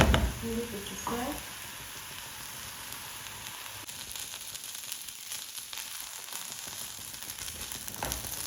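Food frying in a non-stick pot, a steady close sizzle and crackle that holds evenly throughout, with a brief clatter of stirring or handling at the start.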